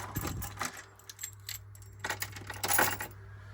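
Metal keys jangle and clink against small hangers inside a Ford Transit campervan cabinet, a few close bursts of bright rattling separated by short pauses.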